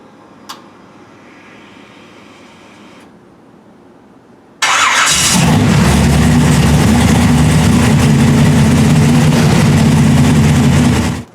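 An engine fitted with Holley Sniper EFI cranks and fires after a few quiet seconds, then settles into a steady, loud, close idle that runs until it cuts off at the end.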